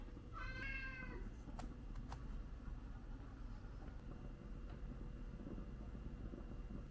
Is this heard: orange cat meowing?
yes